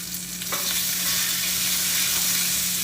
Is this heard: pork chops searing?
yes